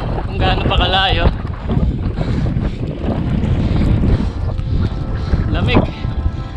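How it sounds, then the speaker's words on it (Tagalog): Strong wind roars steadily across the microphone on a long bicycle ride through the cold, drizzly highlands between Nueva Ecija and Aurora, loud and buffeting throughout, with a voice talking over it. "lakas pa nung hangin"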